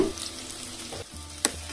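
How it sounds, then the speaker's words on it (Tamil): A large chopped onion drops into hot oil with whole spices for kurma, giving a close, quiet sizzle and crackle with a short sharp clatter near the end. "அடுத்து நறுக்கி வச்ச ஒரு வெங்காயம்,"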